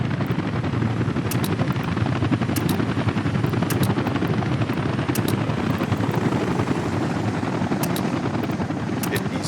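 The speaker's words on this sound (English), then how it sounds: "Get the helicopters to do their thing, right?" Continuous, loud rotor whir and thrum of working helicopters in the city-building game Workers & Resources, steady throughout with faint short clicks on top.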